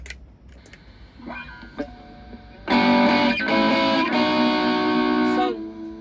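A heavily distorted electric guitar chord through a Blackstar LT Distort pedal rings out loud and sustained after a few quieter picked notes, with a gritty, crunchy edge.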